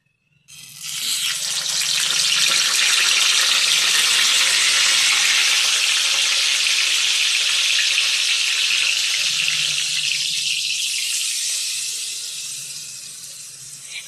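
Water poured into a hot pan with a paratha bursts into a loud, hissing sizzle that holds steady for several seconds, then gradually fades.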